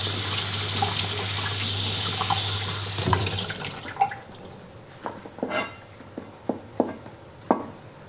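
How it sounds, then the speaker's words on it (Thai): Green onions are rinsed under a running kitchen tap, a loud steady water stream for about three seconds, then the flow stops and scattered drips and small splashes follow. "ล้างนะครับ"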